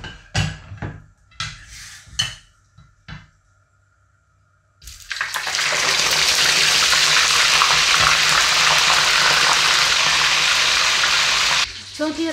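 Fish frying in hot oil in a pan, a loud, steady hiss and crackle that starts abruptly after a few clattering knocks and a quiet pause, then cuts off near the end.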